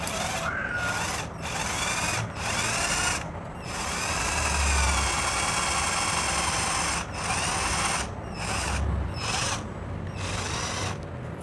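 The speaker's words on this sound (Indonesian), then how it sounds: "lanjut terus kita akan beri lubang" A power drill bores a hole sized for an 8 mm bolt while making a jumper busbar for a solar-power battery bank, whining loud and steady in long bursts with several brief pauses between runs.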